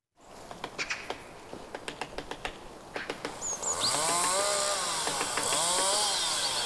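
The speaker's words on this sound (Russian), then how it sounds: "Звуки бензопилы напрочь перебивают и отгоняют пернатых жителей данной окрестности." A distant chainsaw cutting trees whines and revs in the woods, its pitch rising and falling, after a stretch of sharp clicks and taps.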